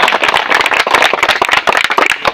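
An audience at a panchayat election campaign speech claps in a loud, dense burst of close hand claps that runs without pause and with no talking.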